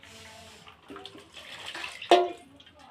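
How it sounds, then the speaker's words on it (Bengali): Liquid for homemade cornflour is poured from one bowl into another, giving a short splashy pour with a brief louder gush near the end, close and fairly quiet. "এইটা একটু অন্য গামলিতে ঢেলে রাখবো"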